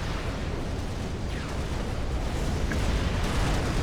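Dense, continuous rumbling blasts fill the scene as mobile missile bombardment units pound a firebase in Supreme Commander Forged Alliance, a loud, unbroken roar of explosions with no clear gaps.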